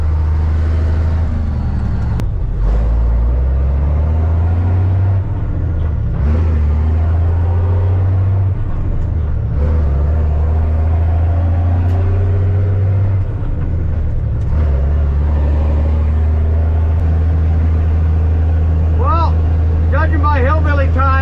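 A 1992 Kenworth truck engine drives along in a deep, steady diesel drone that dips and swells several times as gears are shifted.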